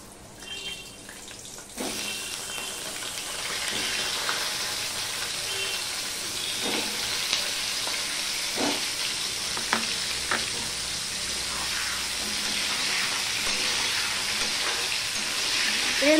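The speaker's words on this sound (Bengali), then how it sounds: "সবার প্রথমে আমি পটলগুলো ভেজে নেব।" Pointed gourd (potol) pieces frying in salted oil in a pan, a steady broadband sizzle running throughout after a quieter first two seconds, with occasional soft knocks and stirring scrapes.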